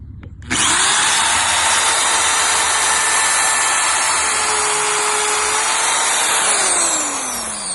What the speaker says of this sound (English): is going to be just to basically drill some basic holes first